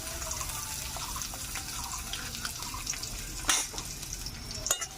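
Onion and chopped green chilli fry in mustard oil in a hot wok, giving a steady broadband sizzle with a few sharper pops and utensil clicks near the end, close and moderately loud with no talking.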